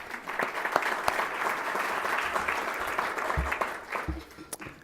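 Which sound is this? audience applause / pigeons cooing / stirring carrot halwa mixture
audience applause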